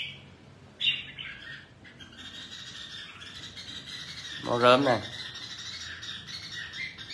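Caged songbirds at a Vietnamese bird seller's squawk and chirp close by, with a sharp burst of calls near the start and a loud squawking flurry midway, while someone talks briefly over them.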